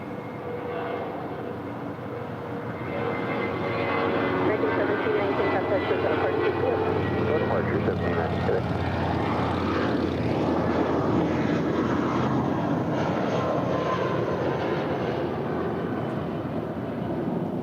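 Jet engine roar from an American Airlines Airbus A319 in America West heritage livery at LAX, a loud broadband rumble that swells after a few seconds and holds steady, with people talking faintly underneath.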